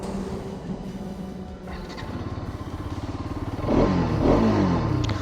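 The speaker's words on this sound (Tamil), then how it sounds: "இதோட வண்டியோட எக்ஸ்ட்ராஸ்ட் நோட்டு கேட்போமா?" A 2025 Bajaj Pulsar RS200 motorcycle rumbles with a bassy, steady exhaust note close by, swelling louder partway through as the revs climb, with no talk over it.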